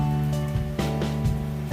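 Steady rain pattering on surfaces at a resort near a wildlife sanctuary in Umphang, a dense continuous hiss with a few louder drip accents, no voices.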